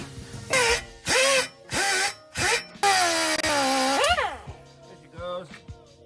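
A pneumatic power tool works on a car exhaust during a budget muffler install, firing in repeated loud bursts of rising, whining pitch separated by short pauses, ending with a long sustained run and a final sweep.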